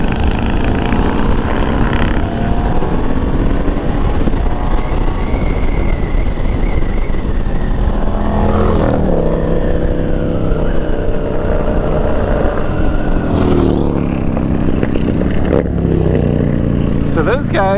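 A motorcycle in second gear on a race track at the Daytona 200, its engine droning loudly and shifting pitch as it revs through a corner, with wind roar across the whole clip and a rider talking over it.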